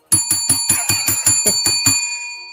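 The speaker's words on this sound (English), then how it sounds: "I got to ring the bell to that" A bright metal bell struck in a fast, even run of about nine rings, each strike ringing on with a sustained metallic tone that carries past the last hit before fading, loud and close with no talk over it.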